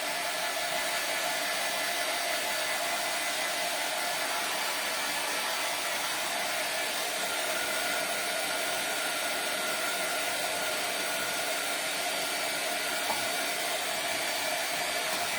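A hair dryer blows steadily on painted craft yarn wound into a Christmas tree, a constant close, loud whooshing hiss with no pauses and no talking.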